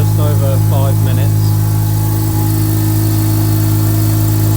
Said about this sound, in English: Engine's now been running for just over 5 minutes.